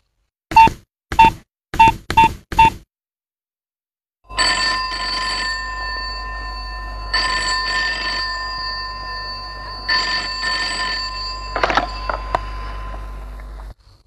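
Telephone in an office scene of a Santali play rings with a few short electronic bursts, falls silent, then gives a long, loud, steady ringing tone that carries on for several seconds before cutting off.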